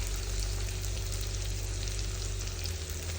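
Spice paste being stirred in a hot frying pan for a Bengali ghaura meat curry, a steady close sizzle with soft scraping throughout and a low hum beneath, no voices.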